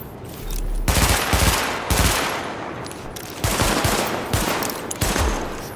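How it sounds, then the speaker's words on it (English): Bursts of rapid automatic gunfire are aimed at highlighted targets during a weapon test in the video game Tom Clancy's The Division, loud and close with short pauses between volleys. "Open fire at the highlighted targets."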